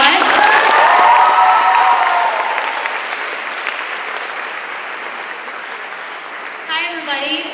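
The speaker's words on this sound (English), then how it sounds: "Can we give him one more round of applause?" A crowd claps and cheers at Culture Shock 2014, a student cultural event at an Ethnic Student Center. Loud applause opens over a voice, then gradually fades, and someone begins speaking near the end.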